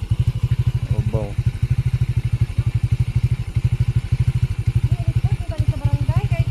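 A motorcycle engine chugs nearby at idle with a loud, steady, throbbing beat, while faint voices are heard over it now and then.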